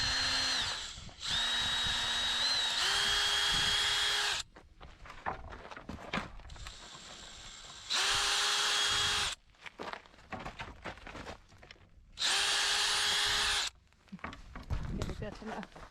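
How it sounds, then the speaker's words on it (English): Power drill driving 6-inch FastenMaster HeadLok screws into studs, three loud close bursts of whirring that rise in pitch as each screw sinks, with quiet gaps between them filled by handling noise and some talk. "We're using these Fasten Master headlock screws. These are 6 inches."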